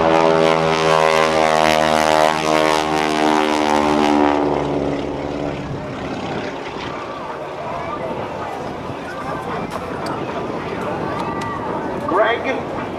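A Starduster propeller biplane flies aerobatics at an airshow at NAS Oceana, its engine droning loud and harmonic for the first few seconds before fading into a broad, distant roar with crowd and wind noise beneath.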